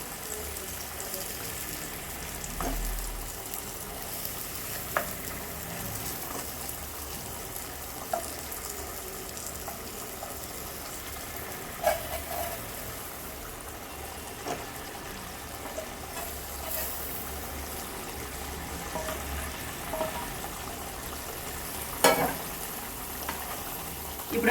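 Fish curry simmering on a stove with fried fish pieces added, a steady low sizzle and bubbling running throughout with occasional soft clicks of a spoon or pan.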